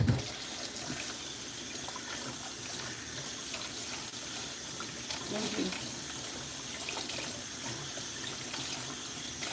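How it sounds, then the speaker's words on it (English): Strawberries get rinsed under a running kitchen tap, a steady splashing gush of water into a sink that carries on throughout, close and fairly loud, with some handling noise. "So I'm gonna rinse my strawberries."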